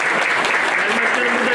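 An audience applauds for a commander at a municipal gathering of expatriates in Aksaray, with dense, sustained clapping throughout, loud and close.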